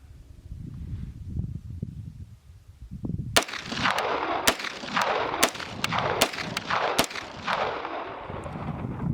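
Gunfire from the EvoMac firearm on a shooting range: after a few seconds of low rumbling, a rapid string of sharp, loud shots rings out close by, each with a trailing echo.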